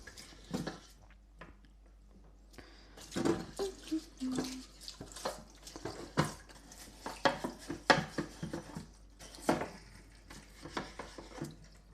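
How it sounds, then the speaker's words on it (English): Water splashes and sprays at a kitchen sink while a baking tray is scrubbed, with irregular clatters and scraping of metal; close, uneven bursts with no talking. "Oh my God, I'm getting water everywhere."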